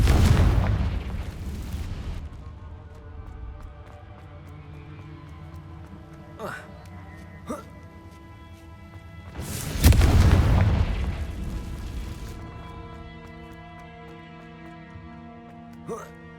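A Confringo spell explosion in the Hogwarts Legacy video game: two loud booming blasts, one at the start and one midway, each fading into a ringing tail, with softer magical zaps between them and quiet musical tones underneath.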